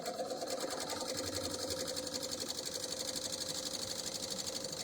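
A BERNINA L800 overlocker runs a 3-thread narrow overlock with its knife trimming a scant edge, giving a steady, even, close mechanical hum with rapid regular stitching chatter throughout, no pauses and no voice.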